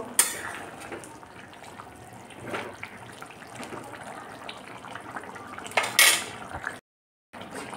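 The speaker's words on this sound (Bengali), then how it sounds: "ঢাকনাটা সরিয়ে তারপর একটু ওপর নিচ করে মিশিয়ে দেব।" A lid comes off a pot of mung dal with ridge gourd and potato, then a spoon stirs it, giving metallic clinks and scrapes and one sharper clatter near the end, followed by a brief silence.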